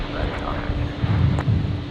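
China Airlines Airbus A350 jet at Brisbane airport, a steady broad engine roar and wind rumble running under faint background talk throughout the short span.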